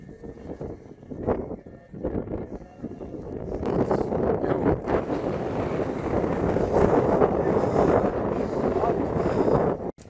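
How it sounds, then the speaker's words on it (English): Strong wind blows across a mountain top at night, a loud, steady roar of gusts buffeting close by that builds and holds, with brief talk heard at the start. "It's so windy tonight, though."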